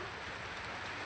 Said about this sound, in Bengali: বাইরে গুড়ি গুড়ি বৃষ্টি হচ্ছে।